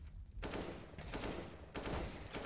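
Gunfire from a first-person shooter video game crackles in quick, dense bursts of rapid shots with brief gaps between them. The volume is moderate and nobody talks over it.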